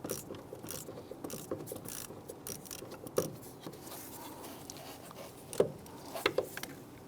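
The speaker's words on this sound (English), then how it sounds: "Use an 8mm socket to go ahead and loosen and remove the ground strap bolt." A ratchet with an 8mm socket loosens the ground strap bolt on a 2011-2019 Ford Explorer with a 3.5L V6, giving faint quick clicking bursts with a few sharper knocks, close but quiet.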